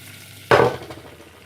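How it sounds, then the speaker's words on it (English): Flour is stirred into melted butter in a pan over low heat, a sudden burst of sizzling and scraping that fades quickly as the roux forms a paste. "So just keep stirring until it becomes a paste and you can't see any more flour."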